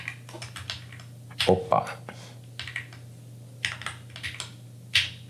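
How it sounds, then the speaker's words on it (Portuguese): Keys clatter in scattered bursts on a computer keyboard, close and crisp, with a brief spoken exclamation partway through over a steady low hum. "Até hoje eu não acostumei com esse teclado ainda."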